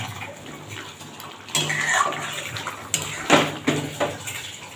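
A spoon scrapes and clinks against a pot as chicken curry is stirred with garam masala on a gas stove. The taps and scrapes come in a few irregular bursts over a soft sizzling background.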